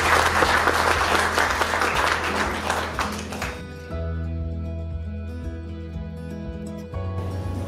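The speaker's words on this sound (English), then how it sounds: "I think we need a big round of applause to Anu." Audience applause breaks out loudly for about three and a half seconds, dense clapping that then fades into a quiet room hum.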